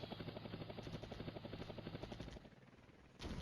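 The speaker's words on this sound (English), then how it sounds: "More helicopters, great." Steady rhythmic thumping of helicopter rotors in the video game Flashpoint Campaigns: Red Storm, loud and continuous, dipping briefly before surging back near the end; no voices.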